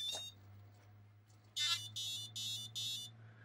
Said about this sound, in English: that's four beeps.